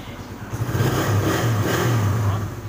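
A nearby carbureted Suzuki Raider 150 motorcycle engine idling and revving in a few rising pulses, loud and rumbling throughout.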